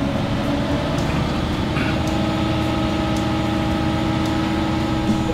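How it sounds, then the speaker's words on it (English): A Winnebago Travato van engine in high idle close by, about 1600 RPM, a continuous low rumble with a faint hum on top, holding an even level throughout. "So now we'll see the engine go into high idle mode."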